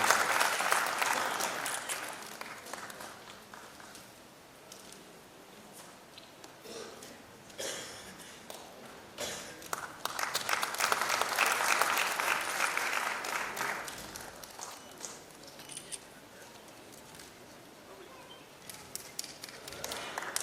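An audience at a stage ceremony honouring dignitaries claps in sustained applause, swelling and easing in waves over about twenty seconds, heard at a moderate distance in a reverberant hall.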